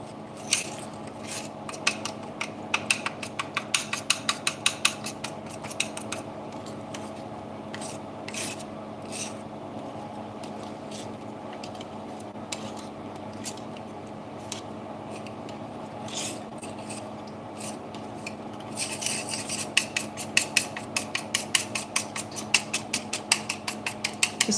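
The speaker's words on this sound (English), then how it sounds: "Just giving that a whisk" Whisking vegan Dutch baby pancake batter in a bowl: brisk, rhythmic scraping and tapping strokes come in bursts near the start and again toward the end, over a steady low kitchen hum.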